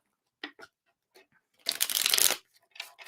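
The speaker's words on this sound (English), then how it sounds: "One more shuffle for Pisces. I'm going to shuffle this Zodiac." A deck of tarot cards is shuffled quietly at close range: a few soft taps and slides, then a dense riffling burst lasting under a second, followed by light handling.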